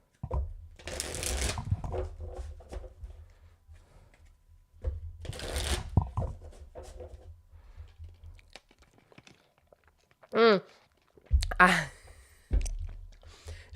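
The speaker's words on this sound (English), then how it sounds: "I just shuffle until the angels tell me to stop." Cards are shuffled in two quick riffling bursts, then a few clicks, taps and fumbling sounds nearby, with no talking.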